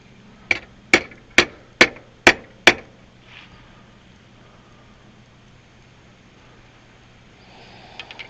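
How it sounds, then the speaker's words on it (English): A hammer strikes a metal part of a DIY wind generator six times in quick, evenly spaced succession, each hit a sharp, close clang that decays fast, followed by quiet. "I'm wondering if I can beat it a little bit with the hammer."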